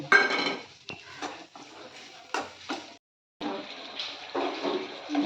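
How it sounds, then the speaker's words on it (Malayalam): Onions are stirred in a cooking pot for a chicken parts curry, giving clattering scrapes and metallic knocks in uneven bursts, broken by a brief pause before the stirring resumes. "നന്നായി ഒന്ന് ഇളക്കി കൊടുക്കുക"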